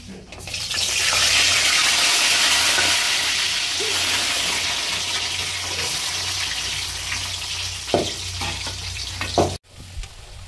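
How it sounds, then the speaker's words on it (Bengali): Potatoes fry in oil in a wok (kadai) with a loud, continuous sizzle and crackle that fades slightly over time, with a few sharp clinks of stirring near the end. "আলু এইভাবে ভালো করে ভেজে নিতে হবে।"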